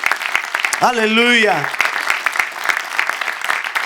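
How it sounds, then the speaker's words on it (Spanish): A church congregation claps loudly and continuously, a dense wash of applause, while a voice calls out briefly over it near the start. "¿Por qué no le damos un aplauso al Señor bien grande?"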